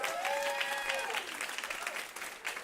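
Audience applause for panelist Kate McKenzie at a food policy panel event, a steady wash of many hands clapping at a fairly quiet, distant level, with a faint tonal sound audible early on.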